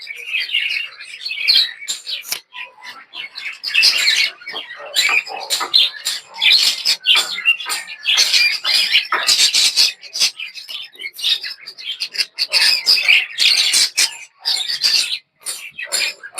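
Pet budgerigars in breeding cages chirp and squawk in a busy, overlapping chorus of short, bright calls, loud and close, with no voices.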